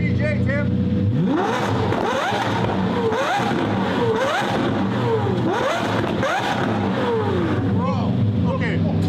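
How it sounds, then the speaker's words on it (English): A Lamborghini SVJ engine revs repeatedly, rising and falling in sharp bursts, loud and close, with voices talking between the revs. "some revs from the SVJ, Tim."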